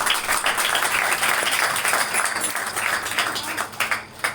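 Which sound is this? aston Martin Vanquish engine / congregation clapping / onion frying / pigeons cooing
congregation clapping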